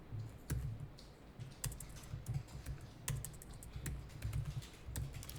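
Typing on a computer keyboard during accounting data entry, a steady series of close, crisp key clicks with irregular rhythm and no talk.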